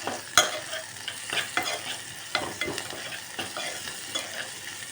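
Ginger-garlic paste and curry leaves being stirred in a hot pan for mutton curry, a steady sizzle broken by repeated scraping strokes of a spoon, close and clear with no talking.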